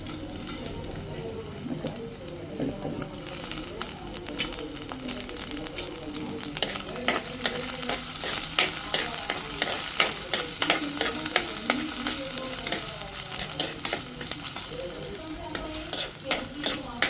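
Garlic sizzles as it drops into hot oil for a fish curry, a steady loud frying hiss that jumps up a few seconds in, with repeated scraping stir strokes against the pan throughout.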